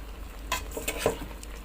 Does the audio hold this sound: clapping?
no